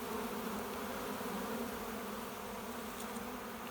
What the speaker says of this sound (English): introducing the bees to their new home. They're doing the fan and march going into the entrance there